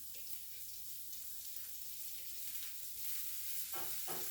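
Vegetables and scallion sizzle gently in a pan over moderate heat, a steady soft hiss with faint stirring near the end, alone and quiet.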